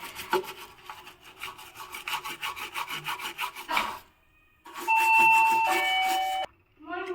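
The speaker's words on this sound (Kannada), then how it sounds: "ಸ್ಕ್ರೂ ಹತ್ರ ಮಾತ್ರ ಬ್ರಷ್ ಹಾಕಿ ಕ್ಲೀನಾಗಿ ತಿಕ್ಕೋಬೇಕು" A brush scrubs around the screws of a dirty gas stove in a kitchen, giving steady rasping strokes for about four seconds. A pause follows, then a loud sustained electronic tone, and brief clatter ends it.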